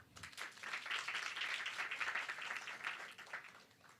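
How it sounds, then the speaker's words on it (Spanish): Audience applause at a Spanish-language food safety panel, a steady wash of many hands clapping that holds at moderate level for about four seconds before easing slightly. "Un aplauso, por favor."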